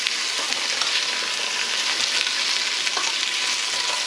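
Beef stew meat sizzling and frying in a pan while being stirred, a steady close crackle with soft scraping strokes throughout.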